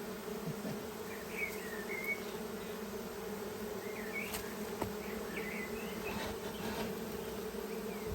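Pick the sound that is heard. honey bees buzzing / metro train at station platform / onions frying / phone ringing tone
honey bees buzzing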